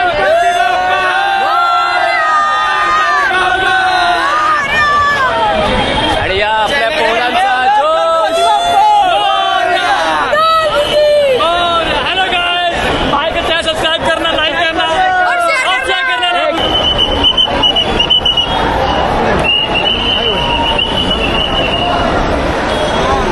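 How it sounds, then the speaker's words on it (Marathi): A large, dense crowd fills the darshan queue at Lalbaugcha Raja in Mumbai, a continuous loud hubbub of many overlapping voices with shouts, plus a steady whistle-like tone toward the end. "मोठ्या प्रमाणात गर्दी आहे"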